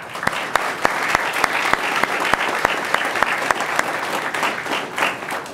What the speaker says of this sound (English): If y'all would stand and catch a round of applause,